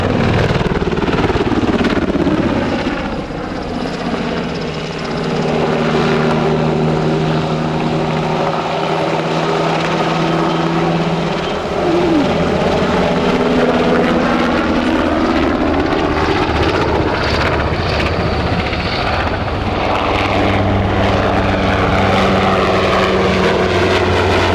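A German Army NH90 TTH transport helicopter performs a flying display at an air show, its loud rotor and turbine roar steady and close for the whole stretch, with shifting whine as it manoeuvres.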